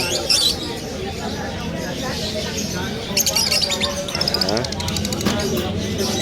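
Caged red-headed birds at the Malabon pet market during a weekend Christmas sale chirp and squawk in short bursts, mixed with ambient market noise while someone talks over them.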